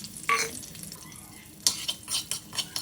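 Spoon stirring cumin, urad dal, chana dal, mustard seeds and green chillies frying in oil in a pan, with scraping clinks and soft sizzling in short bursts, close by.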